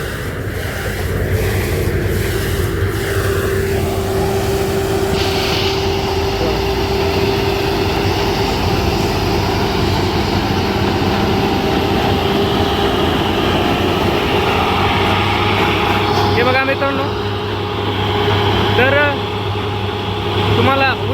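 A sugarcane harvester engine drones loudly and continuously, with a steady mechanical hum and rattling, while people talk over it at times.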